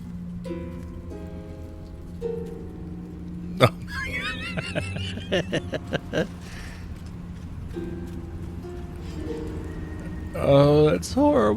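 A Night Warden's lyre in Baldur's Gate 3 is plucked clumsily, giving scattered, uneven harmonic notes and sudden twangy strums that sit mid-level over steady game ambience, ending in a wobbly rising run.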